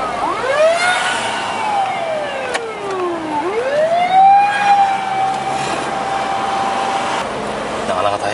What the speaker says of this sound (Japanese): 救急車が通るときは道を開けないといけませんからね。